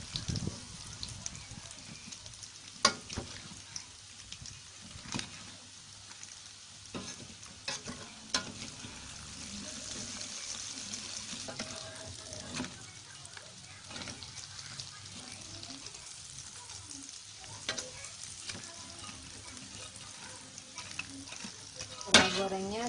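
Cassava pieces fry in hot oil, giving a steady close sizzle and bubbling with scattered pops and crackles throughout, no voices over it.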